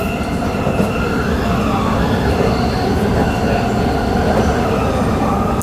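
Train running on a rail viaduct heading towards Ellenbrook, a loud close continuous rumble and roar with faint wheel squeal tones, steady throughout.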